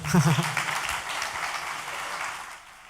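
An audience at a French talk applauds a design lead from Everroad as she comes on stage, a steady wash of clapping with a brief voice-like tone at the start.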